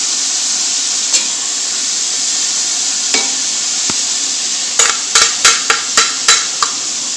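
Chicken fries in ghee with garlic-ginger paste for white karahi, making a steady close sizzle punctuated by sharp spoon taps and scrapes against the pan, which cluster rapidly toward the end.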